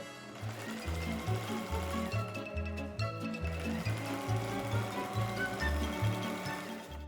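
A sewing machine stitches a bicycle pannier bag 1 cm from the edge, its steady rapid needle rhythm running throughout at close range with a brief pause midway.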